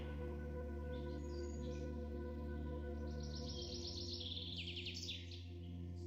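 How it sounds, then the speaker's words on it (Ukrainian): Birds chirp and sing in short bright phrases over a steady low hum, fairly faint and a little distant. "це обов'язково співають птахи"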